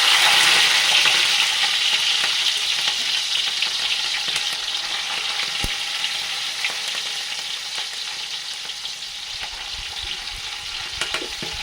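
Ginger, garlic, curry leaves and green chilli fry in hot oil for a homestyle Kerala chicken curry, giving a steady, loud broadband sizzle that eases slightly over time, with faint stirring scrapes and no talk.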